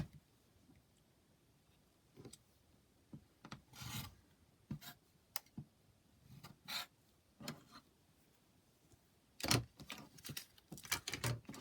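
Quilt fabric being trimmed by a quarter inch, heard as a series of short, close scraping and cutting strokes spaced irregularly against a quiet background, with a quick run of sharper strokes toward the end.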